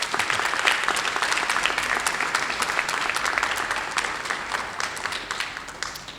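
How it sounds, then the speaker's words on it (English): A scholarship awards audience applauds families, a dense, sustained wash of clapping from many hands that stays steady and full throughout. "Why don't you give your families a round of applause for the help?"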